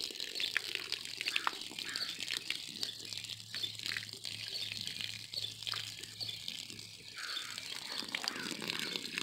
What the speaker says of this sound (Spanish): Bueno, y le debes de poner agua, porque si la tierra está muy seca, pues no vas a poder poner las plantas.